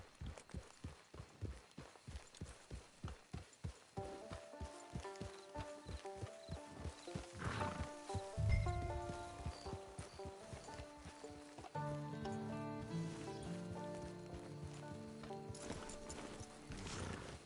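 Rhythmic clip-clop of horse hooves in Red Dead Online, a brisk trot that slows, with a whinny partway through and a game music score over the later hoofbeats.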